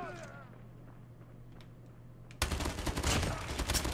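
Call of Duty Mobile gunfire in a 10v10 match. After a quiet stretch, dense rapid bursts of shots erupt, loud and close, and keep going to the end.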